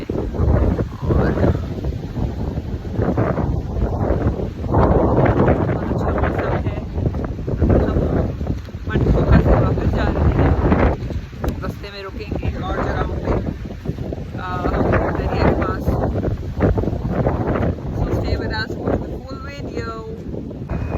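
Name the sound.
strong wind near Manthoka waterfall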